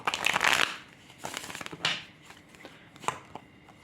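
A deck of cards being shuffled for a tarot-style love reading: a brisk, close riffle of crisp card flutters at the start, followed by scattered softer card taps and slides.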